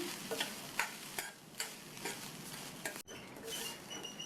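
Grated coconut sautéing in a pan on a stovetop over medium flame, with a soft continuous sizzle and a few light scraping stirs, quiet and close, with no talk.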